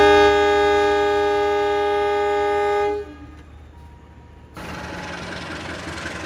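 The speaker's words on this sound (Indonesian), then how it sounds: "Kereta Serayu diberangkatkan menuju ke Jakarta Pasar Senen via Bandung ya." The Serayu passenger train's horn blares in one long, loud sustained tone that cuts off, followed by a quiet gap and then a broad rumble of the engine as the train departs.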